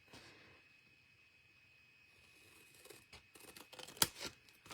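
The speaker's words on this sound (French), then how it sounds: "Hop, je prends mes ciseaux." Scissors snip through paper while a cup is being crafted, a few sharp close cuts and rustles near the end after a quiet start.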